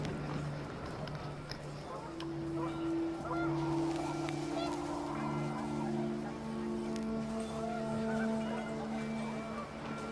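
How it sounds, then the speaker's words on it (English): Panicked geese honk in the video game What Remains of Edith Finch, giving repeated loud honks over wind noise while a voice talks over them. "The wind picked up, and panicked geese appeared and quickly went."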